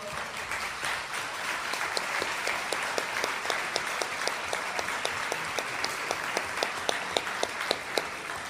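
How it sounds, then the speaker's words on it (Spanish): A conference audience gives a speaker named Santi a long, steady round of applause. Dense clapping carries on without a break for the full eight seconds, with sharp individual claps standing out from the crowd. "Me gustaría pedir un fuerte aplauso a Santi, por favor."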